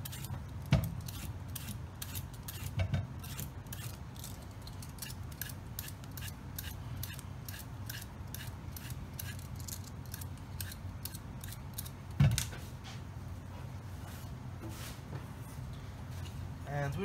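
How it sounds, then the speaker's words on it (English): A peeler scraping the skin off a zucchini in a kitchen, a long run of quick repeated rasping strokes with a couple of sharper knocks, moderately close and fairly quiet. "You just want to peel the skin."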